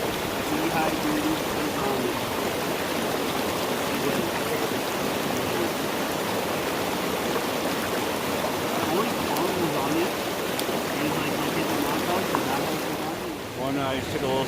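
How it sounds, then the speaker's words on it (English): Cataract Creek, a mountain stream, rushes loudly and continuously close by, a dense steady roar of water filling the scene, with a voice speaking briefly near the end. "So this is Cataract Creek here behind me."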